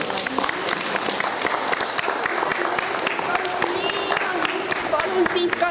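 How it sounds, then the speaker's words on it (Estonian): An audience in a village community hall claps steadily through a Christmas play, dense continuous applause at moderate volume with crowd murmur and a voice speaking over it. "Aga teised võivad aplausiga toetada."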